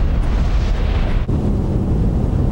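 A loud explosion sound effect standing in for a nuclear blast and its flash, a continuous heavy roaring rumble that fills the whole stretch with a brief dip midway, no voices.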